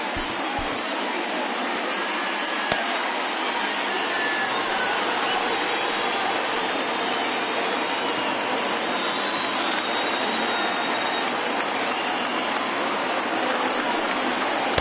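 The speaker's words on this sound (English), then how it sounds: "listen to this crowd now. They are really into this." A stadium crowd roars steadily in the MLB The Show 20 baseball game during a Subway Series matchup, a dense, loud wash of cheering that stays constant throughout.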